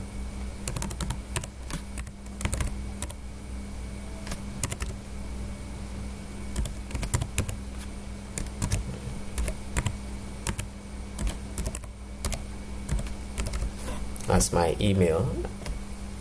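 Keyboard typing while filling in an online account form, a steady patter of light clicking keystrokes through the span, heard under a speaking voice, with a brief burst of louder activity near the end.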